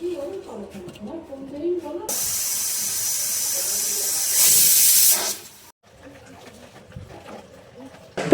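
A pressure cooker boiling hog plums lets out a loud, sustained hiss of escaping steam lasting a few seconds and swelling louder near the end before cutting off. A voice talks briefly before the hiss begins.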